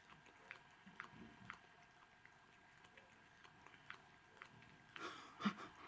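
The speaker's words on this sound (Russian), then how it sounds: "Как он чавкает, а?" A cat chews green peas, giving soft repeated wet smacking and munching sounds in a steady rhythm, close and faint, with a slightly louder burst near the end.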